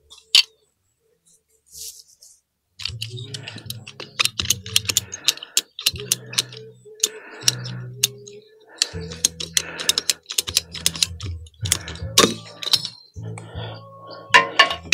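Someone cuts blue polyethylene sprinkler pipe with a ratcheting cutter outdoors. A long series of repeated clicking, ratcheting snaps comes in short rhythmic bursts, fairly close, after a brief quiet start.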